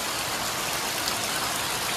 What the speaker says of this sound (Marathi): काल रात्रीपासून जोरदार पाऊस पडतोय आमच्या गावाकडे बघा